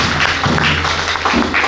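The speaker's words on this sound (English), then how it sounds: "Can we give him a round of applause?" A church congregation at a harvest service in Brikama applauds the guest preacher, Reverend Father Peter Lopez, with dense, steady clapping and a few louder thumps.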